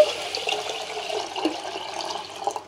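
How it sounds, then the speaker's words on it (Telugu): Drinking water pours into a pot of washed rice, a steady close splashing flow that rises and falls slightly for a few seconds before ending. "డ్రింకింగ్ వాటర్ అయితే వేసేసి స్టవ్ మీద పెట్టేస్తున్నాను"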